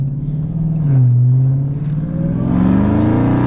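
A Dodge Charger Hellcat with a 924 hp Demon package rumbles deep and loud through its exhaust, revving up with a rising growl toward the end; no one speaks.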